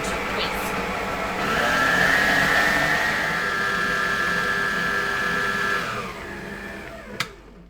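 Egg whites whipped to soft peaks for chocolate mousse with an electric mixer, a steady close-up whir for about six seconds that then eases off, followed by a brief clack.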